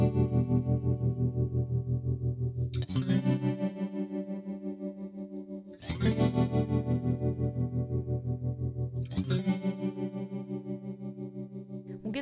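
Guitar run through chorus and tremolo pedals at once, a Deeper M Mini supplying the tremolo: three strummed chords each ring out with a fast, steady throbbing pulse and warbling, shimmering tone.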